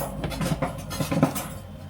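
Sachertorte cake ingredients being creamed together in a bowl, with a utensil scraping and clinking against the bowl in a steady, close, busy rhythm over two seconds.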